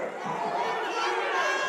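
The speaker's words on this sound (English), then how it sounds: "The crowd goes crazy." Spectators cheer and roar at a wrestling match against Saint Andrew's, a broad, sustained crowd noise with excited voices mixed through it.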